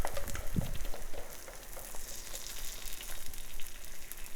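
Cornbread batter sizzles and crackles steadily in a hot pan, a soft continuous frying hiss with a few light scraping clicks.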